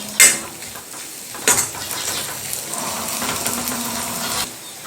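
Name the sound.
sautéing matki dal with onions in a pan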